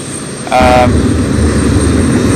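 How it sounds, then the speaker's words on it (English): An Embraer E195-E2 jet approaching London City Airport, its engine noise arriving abruptly and holding as a loud, steady roar with a brief tonal whine at the onset, no talk over it. "here's an approaching aircraft, folks"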